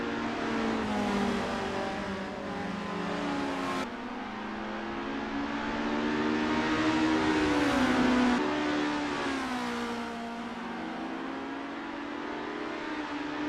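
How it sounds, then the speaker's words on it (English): Formula race car engines in a racing game, several cars droning and revving together with rising and falling pitch as gears shift, a steady loud roar throughout. "The engines roar, the tires squeal"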